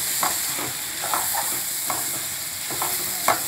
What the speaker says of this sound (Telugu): లిమ్ములో పెట్టి చక్కగా కలుపుతూ ఉంటే మంచిగా ఫ్రై అవుతూ ఉంటుంది ఈ విధంగా